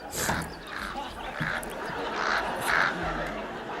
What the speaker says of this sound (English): to sleep with them freaking crows all night. Calling and scraping.